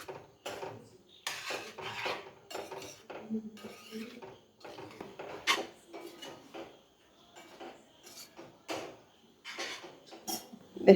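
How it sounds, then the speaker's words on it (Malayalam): A spoon scraping and clattering against a pan while food is stirred, with egg scrambled alongside; dense, busy metallic scraping and clinks run nearly continuously at close range, with a voice speaking in places. "ഇതിനകത്തിട്ടോ ഇതങ്ങ് ഇളക്കിയെടുക്കാം"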